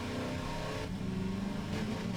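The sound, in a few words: car engine in a video game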